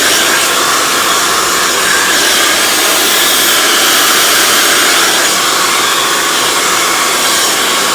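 A hair dryer blow-drying hair straight, a loud continuous roaring whoosh that holds steady for the whole stretch with no talk over it.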